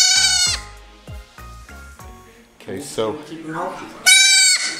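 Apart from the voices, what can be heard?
baby mini house goat bleating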